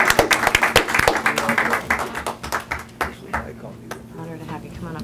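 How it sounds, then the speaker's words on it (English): Applause breaks out in a county commissioners meeting room during a certificate presentation, a burst of many hands clapping that thins into scattered claps as voices murmur underneath. "Now we can clap."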